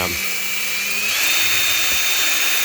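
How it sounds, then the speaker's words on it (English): A small drill with 2000-grit sandpaper taped around its bit spins to polish a brass door hinge sleeve on a Ford Falcon XB GS coupe, a steady close high-pitched whine that rises in pitch and holds, with no talk. "I just got a bit of 2000 grit sandpaper and put around this little drill bit, a bit of duct tape, hold in place"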